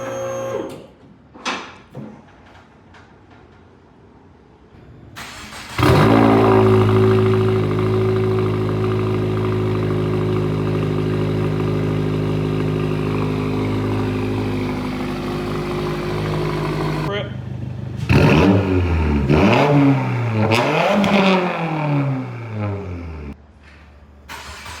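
A Subaru WRX VB with a PLM J-pipe and axle-back exhaust starts up and holds a loud, droning rev for about ten seconds, then a few sharp throttle blips rise and fall, with people talking around it.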